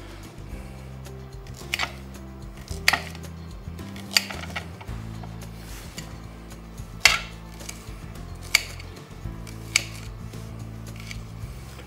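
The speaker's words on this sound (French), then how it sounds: "je vais détailler un peu les oignons blancs" A knife chops white onions on a board in a few sharp, sparse knocks spaced a second or so apart, quiet against a low steady hum with no talking.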